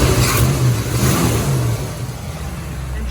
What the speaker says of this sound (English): Engine sounds nice and tight.